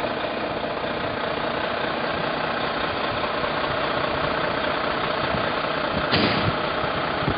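A motor coach engine idles with a steady, continuous rumble throughout, close and fairly loud, with a brief added noise near the end.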